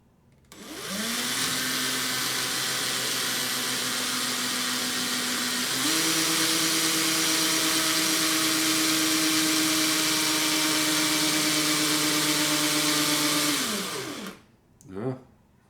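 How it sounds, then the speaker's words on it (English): A power drill twists wire clamped in pliers for a Clapton twisted parallel staged coil build. Its motor whines up, steps higher in pitch midway, runs steadily and loudly for about thirteen seconds, then spins down, followed by brief handling knocks. "as I start to work the drill, the pliers are gonna get pulled in toward this way"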